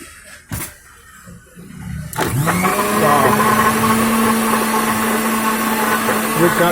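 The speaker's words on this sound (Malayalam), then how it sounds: "ഓ മിക്സിയിലാണ് അടിക്കുന്നത്" A mixer grinder at a shop blends lemon water with soda. After a brief quiet stretch with a voice and a knock, the motor kicks in with a loud, sustained whirring roar that holds to the end.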